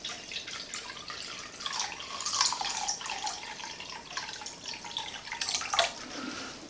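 Water running and dripping steadily from a tap while soaked acorns are rinsed in a sink, a close, continuous splashing trickle with no voices.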